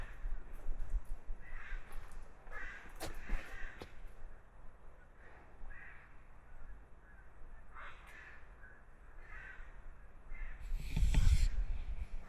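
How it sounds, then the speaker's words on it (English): A crow caws in several spaced, rasping calls from up on old machinery at the ruined Taku Harbor cannery in Alaska, set against steady outdoor wind and ambient noise, with a louder rustle near the end. "We've got a crow up there on it too."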